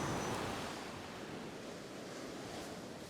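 Strong wind gusting across a beach during night fishing on a new moon, heard as a steady, broadband roar with surf mixed in and buffeting on the microphone, loud and unbroken with no voices.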